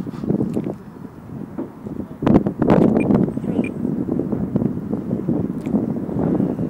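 Gusty outdoor wind buffets the microphone during an RC helicopter landing at a flying field, a steady low roar with rougher bursts that swell and ease over several seconds.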